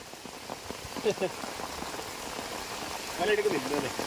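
Steady rain patters on a surface during flooding at a house's front veranda, a dense close hiss with scattered drops, while people talk over it.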